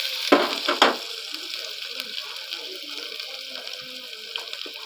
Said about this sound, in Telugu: ఆనియన్స్ అన్నీ బాగా వేగిపోయినట్టున్నాయి చూడండి.